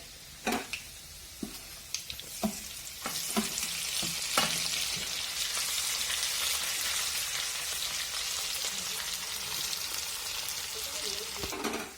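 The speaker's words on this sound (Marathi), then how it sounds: "त्याच्यानंतर आपल्याला लसूण टाकायचं आहे" Garlic dropped into hot oil for a dal tadka tempering sets off a few sharp taps and clatters, then a steady rising sizzle that carries on evenly without talk.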